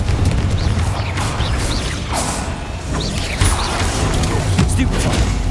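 Spell-blast combat in the video game Hogwarts Legacy: loud, dense crashing booms and whooshes roll continuously with scattered sharper bursts, a voice talking under the din.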